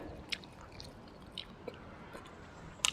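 Someone chews grilled milk-marinated pork with sticky rice up close, with soft, quiet mouth sounds broken by a few sharper crunchy bites.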